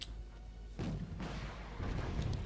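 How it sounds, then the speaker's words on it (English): In the video game Wargame Red Dragon, Hellfire missiles fired from Lynx 3 helicopters strike tanks, landing as a couple of muffled, heavy booms with rumbling tails against a low battlefield wash. "Oh, he's going with Hellfires first. Taking out some tanks."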